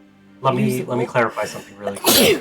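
A single sharp human sneeze bursts out loud and close at the end, following a stretch of someone talking.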